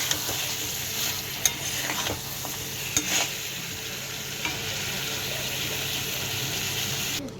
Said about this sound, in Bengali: চিংড়ি মাছে একটু মিশিয়ে দিলাম